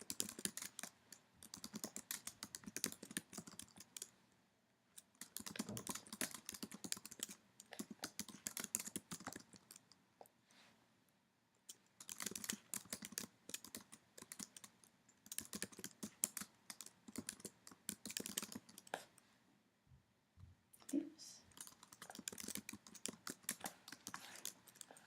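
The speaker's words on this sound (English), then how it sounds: "once you're done typing in your definition" Fingers type steadily on a computer keyboard for about twenty-five seconds, a quiet, fast patter of clicks in long runs broken by brief pauses, close by with no talk.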